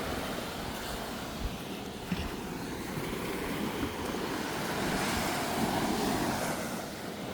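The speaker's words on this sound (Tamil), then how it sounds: "பாருங்கள் அப்படி கடல் அடிக்குதாண்டு." Sea surf rolls steadily onto Mullivaikkal beach, a broad continuous wash of breaking waves with wind buffeting the microphone, swelling slightly louder toward the end, with no voices.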